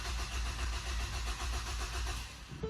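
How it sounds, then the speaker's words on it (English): A Ford EcoBoost engine cranks on its own with a rapid, pulsing churn that runs steadily for under three seconds, close and fairly loud, ending with an abrupt change as it catches or stops. "It's literally cranking the vehicle by itself right now."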